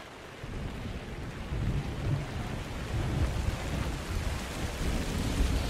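Steady heavy rain hisses with a low rolling thunder rumble underneath in the video game Minecraft: Story Mode, a continuous loud storm with no talk.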